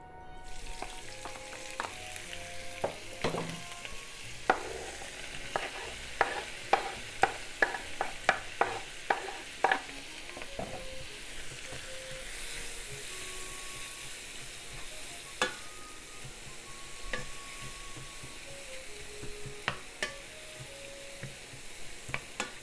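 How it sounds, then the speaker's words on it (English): Squid and onion fry in vegetable oil in a frying pan over medium-high heat, giving a steady close sizzle. Repeated sharp scraping clicks of stirring come through in bursts, and faint beeps sound under the sizzle. "let's cook the squid and the onion first"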